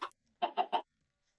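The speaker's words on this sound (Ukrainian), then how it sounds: "Що ви там робите? Кури." Minecraft chickens: a quick clucking call, then three short hen clucks in a steady row, fairly close and clear against silence.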